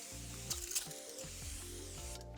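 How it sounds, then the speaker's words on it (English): A La Roche-Posay thermal spring water face spray gives a couple of quick misting pumps, short airy bursts over steady background music. "I use the La Roche-Posay. It's just like a thermal spring water spray."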